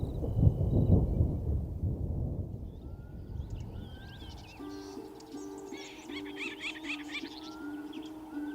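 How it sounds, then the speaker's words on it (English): Low thunder rumbles in the first half before rain in Tarangire, Tanzania, then fades as birds chirp and call in the savanna, the birdsong carrying on alone near the end. "Lightning is a signal that rain is imminent in Tarangire."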